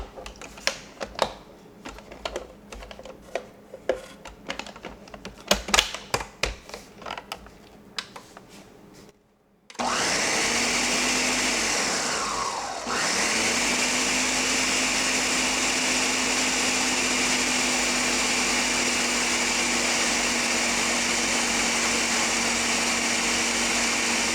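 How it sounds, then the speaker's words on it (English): Light clattering and tapping, then a brief pause before a blender roars to life, whirring loudly and steadily as it purees roasted tomatoes. "I'm gonna start getting in the blender to process."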